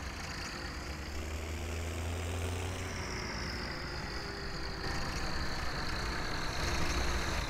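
A tractor engine runs steadily in Farming Simulator 17, its low droning idle joined by a whining tone that rises and falls slightly, continuous and fairly close, with no talking.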